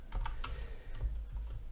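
A grep command being typed on a computer keyboard: a quick, irregular burst of close key clicks, about eight taps in under two seconds, with no voice.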